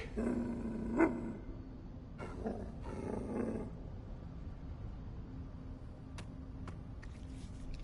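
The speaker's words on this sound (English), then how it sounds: "This dog, he's not as ordinary as he looks." A dog in the video game The First Descendant gives low growling rumbles in a few short bursts over a quiet game backdrop, followed by faint scattered ticks.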